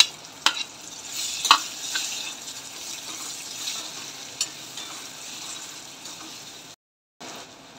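Tomatoes go into a pan with chilli powder, cumin and coriander powder for a green moong curry, producing a steady sizzle with stirring scrapes and a few sharp utensil knocks, broken by a brief gap.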